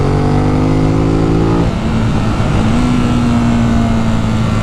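Ducati Monster 821 (2018) engine revving hard on the move, a loud steady drone whose pitch climbs, drops at a gear change, then holds high and continuous with wind noise throughout.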